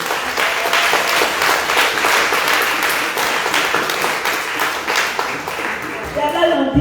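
At a Christian testimony festival in Ouragahio, an audience breaks into dense, sustained applause, many hands clapping evenly for several seconds before the sound cuts off abruptly.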